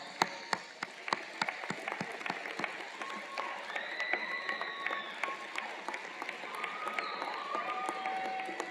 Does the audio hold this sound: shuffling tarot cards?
no